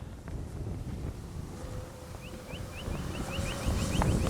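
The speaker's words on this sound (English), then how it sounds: "that wind's kicking up again" Gusty wind buffets the microphone at an RC airfield, a low continuous roar that builds slightly toward the end, with the faint whine of a model airplane engine passing in the distance.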